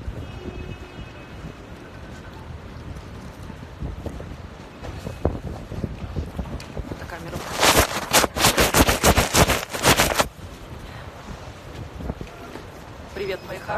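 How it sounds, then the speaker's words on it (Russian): Cold wind gusts buffet the microphone on a snowy New York street, with a low rumble building into a strong, loud burst of wind noise midway before easing off. "Не забывайте о том, что здесь постоянно дует ветер."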